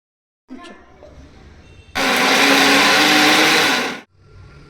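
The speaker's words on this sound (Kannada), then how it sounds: "ಇವೆಲ್ಲ ಸೇರಿಸ್ಕೊಂಡು ನಾವು ಮಿಕ್ಸರ್ ಜಾರಲ್ಲಿ ಹಾಕೊಂಡು ರುಬ್ಬೋಣ" A mixer grinder grinding masala with tomato whirs loudly for about two seconds, a steady high-pitched grinding roar that starts and stops abruptly, with quiet handling noise before and after.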